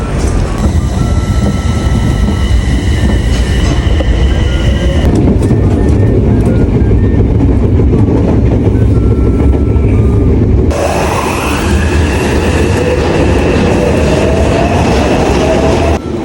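A train ride starting from Nipa Station, heard from inside the carriage as a steady loud rumble and rolling noise, with whining tones that rise as the train speeds up and no talking.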